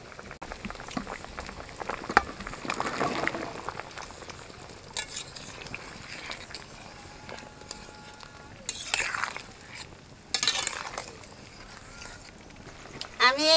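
A thin curry gravy simmers in water as eggplant pieces are added, giving a low bubbling with stirring and scraping noises and a few louder splashy bursts, close and fairly quiet.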